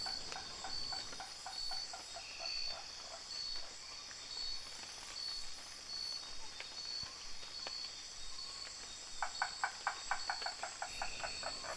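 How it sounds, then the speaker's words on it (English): A strange frog in Sabah lowland jungle calls in quick rhythmic series of pulses, clearest near the end, over a steady hiss of crickets and insects in a humid forest night chorus. "Following a strange frog call led us to a pond in the hollow of an uprooted tree"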